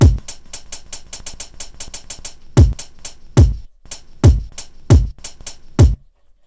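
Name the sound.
hi-hat drum sample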